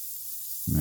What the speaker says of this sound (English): let that sear for a minute